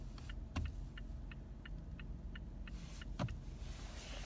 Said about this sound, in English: if you don't like to hear your turn signals very much, then go ahead and turn it low.